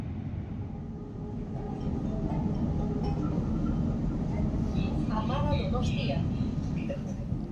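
A narrow gauge train on the Bilbao - San Sebastián line runs with a steady, loud rumble and roar inside a tunnel, with some squealing metallic tones near the end.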